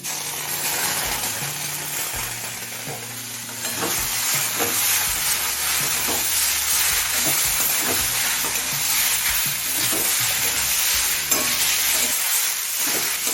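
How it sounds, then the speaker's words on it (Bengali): Vegetables, pui greens with metuli, fry on a medium flame in a continuous sizzle broken by repeated scraping stirs of the spatula, close and steady, with no talking. "সব কিছু মিডিয়াম ফ্লেমে আরও চার পাঁচ মিনিট ভেজে নিয়েছি"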